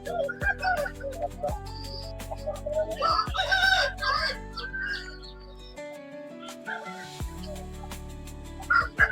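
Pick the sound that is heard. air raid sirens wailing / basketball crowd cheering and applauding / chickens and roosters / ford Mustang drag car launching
chickens and roosters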